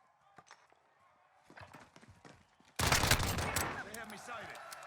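Pistol gunfire in the Call of Duty Warzone Gulag, with scattered light clicks and footsteps before a loud, sudden burst of shots and ringing noise that sustains to the end.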